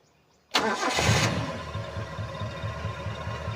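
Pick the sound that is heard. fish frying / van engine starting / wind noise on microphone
van engine starting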